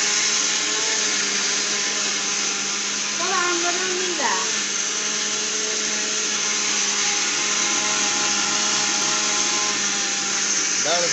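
A mixer grinder runs steadily for the whole stretch, grinding a full jar of masala for chicken pulao in a home kitchen, with a constant loud motor whine and brief pitch wobbles near the start.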